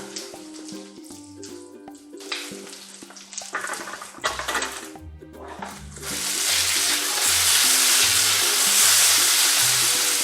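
Breakfast potatoes fry in a pan, with scraping and stirring knocks at first, then a loud, steady sizzle that rises and holds close by.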